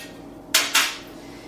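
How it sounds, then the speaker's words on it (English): Glass canning jars set down into a cold pressure canner for beef stew, giving two close, sharp clinks about a quarter second apart against a faint steady background. "So we're going to put these into our cold canner."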